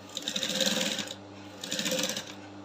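A sewing machine stitching a corset bust piece runs in two steady bursts of rapid mechanical whirring with a short pause between, close and moderately loud.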